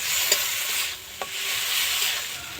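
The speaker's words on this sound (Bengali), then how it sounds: "টমেটোটা একটু ভেজে নেব।" Tomato fries in a pan with a steady, close hiss and sizzle, broken by a few soft spatula taps as it is stirred.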